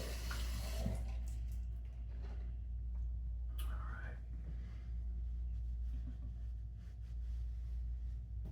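Water runs steadily from a tap while someone rinses off after a wet shave, a continuous splashing wash with a low rumble under it and a few brief clinks.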